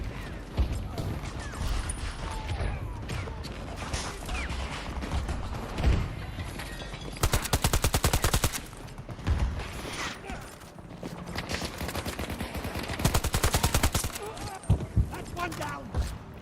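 Unsuppressed gunfire in a first-person shooter, heard as loud rapid automatic bursts around the middle and near the end, amid clattering game noise while a player talks.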